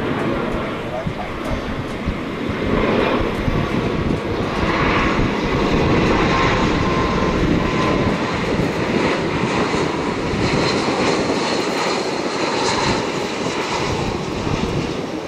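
Jet engines of an Airbus A321 airliner at Tan Son Nhat airport roar steadily and loudly throughout, a broad sustained rumble with a constant hissing whine and no break.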